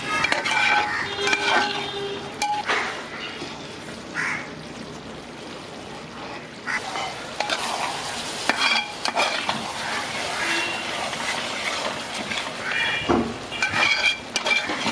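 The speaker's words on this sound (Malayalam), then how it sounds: "ഇടയ്ക്കിടയ്ക്ക് ഒന്ന് ഇളക്കി കൊടുത്തുകൊണ്ടേയിരിക്കുക" Chicken masala curry being stirred in a pan over low flame, with scraping spoon strokes, soft sizzling and occasional clinks of utensil against the pan, continuing steadily throughout.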